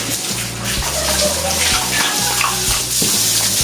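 Strong water gushes steadily from a tap, loud and close, splashing continuously with a low hum underneath.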